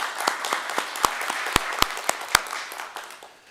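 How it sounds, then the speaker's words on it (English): A small audience at a mayor's news conference gives scattered applause, a sparse run of distinct, fairly close claps with a few sharper hits, thinning out and fading at the end. "Can we have a round of applause"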